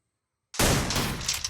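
Gunfire aimed at a gloo wall in a battle royale shooter, a sudden burst of rapid shots that starts after half a second of silence and keeps going loudly to the end.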